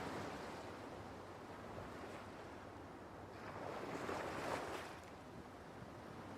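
Ocean waves wash onto a secluded beach in Yakuza 4, a steady broadband surf with a gentle swell rising and easing midway, soft and continuous with no voices.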